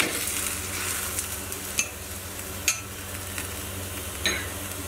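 An aloo paratha fries on a hot pan with a steady close sizzle. A few sharp taps and scrapes from a utensil come as it is flipped. No one speaks.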